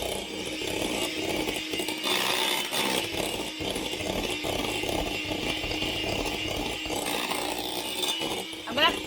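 Cream is whipped with a whisk to make butter, giving a dense, continuous whirring churn close by with slight surges in intensity and a brief rattle near the end. A voice can be heard faintly underneath.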